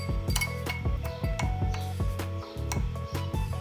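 A spoon clinks repeatedly against a glass while stirring a lemon-mint orange mojito with sugar and black salt, bright rhythmic taps about every quarter second, close and steady with no talk.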